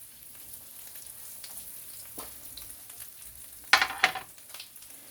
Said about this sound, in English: I have breaded all the veal cutlets. We're going to put it in the skillet.